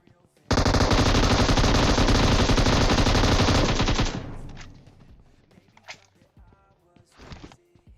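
Sustained automatic gunfire in the mobile battle royale game PUBG Mobile, a loud rapid burst lasting several seconds that tapers into scattered shots and footstep-like thuds.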